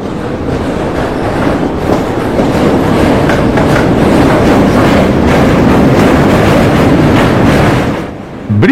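A train crosses the double-decker Dufferin (Malviya) Bridge over the Ganges in Varanasi on the lower rail deck, making a loud, close, steady rumble with a rhythmic clickety-clack that briefly drops away near the end.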